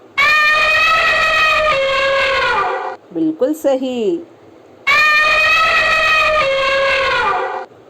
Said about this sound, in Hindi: तो हाथी की चिंगाड़, ठीक है।